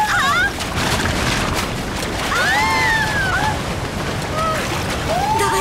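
Ocean surf in a Winx cartoon scene, a steady roar of breaking waves filling the whole stretch, with bright whistling, swooping magical tones rising and falling over it.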